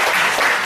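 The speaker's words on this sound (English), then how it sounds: "Can you please give one more applause?" A brief, dense burst of audience applause during a product demonstration, loud and even with no talk over it.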